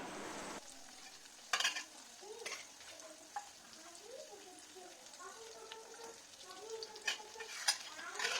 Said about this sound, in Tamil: 3 மீடியம் சைஸ் பெரிய வெங்காயம் கட் பண்ணி நல்லா வதக்கணும்